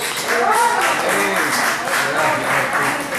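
A church congregation applauding, steady dense clapping throughout, loud and close, with voices mixed in under the clapping.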